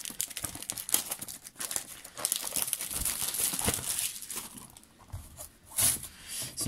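Close crinkling and tearing of cardboard and packaging as scissors cut open boxes, irregular scrapes and snips in short bursts with brief pauses, no talking.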